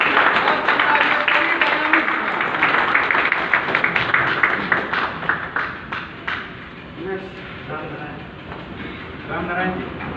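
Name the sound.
audience applause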